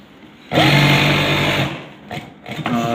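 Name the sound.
sewing machine stitching trouser waistband elastic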